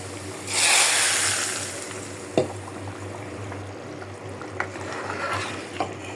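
Tempering (bagar) for lentil dal sizzles and hisses in a pan, loudest in a strong burst near the start, then settles to a steady frying hiss with a few sharp clinks of a utensil.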